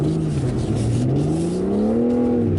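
BMW G80 M3 Competition xDrive under throttle, a loud close engine drone whose pitch climbs steadily as it accelerates, with no talk over it.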